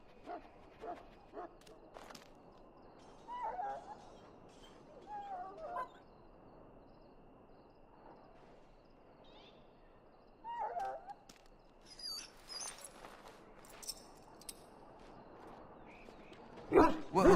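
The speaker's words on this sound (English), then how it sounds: "Now I can treat the dog properly, poor fella." A dog in a pen in the game Dragon Age: Origins gives scattered barks and whimpers, faint and intermittent in a quiet scene, with a louder burst near the end.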